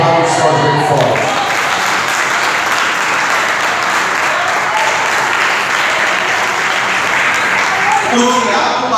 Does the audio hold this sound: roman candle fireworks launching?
no